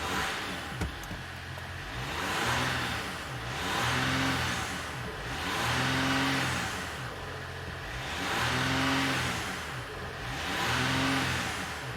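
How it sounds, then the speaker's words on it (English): A 2018 Dodge Ram Laramie pickup's engine runs steadily at idle, close and continuous, with a slow rhythmic swell in its hum and no talking. "Okay, so the truck is now running."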